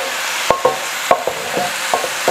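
Fried rice being stir-fried with soy sauce as a spatula scrapes and taps the pan in irregular strokes over a steady, soft sizzle, close up with no voices.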